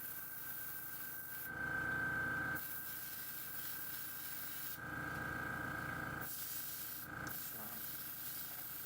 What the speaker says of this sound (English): That's a great way to practice detail airbrushing without actually detail airbrushing or risking a model.